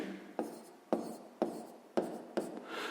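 A pen writes the number 2024 on paper during a sixth-grade maths exercise, making five distinct scratchy strokes in a steady rhythm, close and quiet, with no talking.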